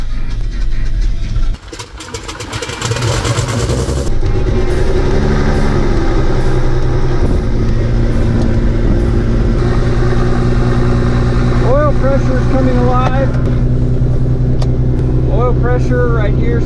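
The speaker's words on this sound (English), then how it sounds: "I'm gonna pull the pump and see if it stays on the engine." An engine, apparently a propeller aircraft's, catches after its fuel pump is primed and settles into a loud, steady drone close by, with a brief sputter near the start and a voice speaking over it.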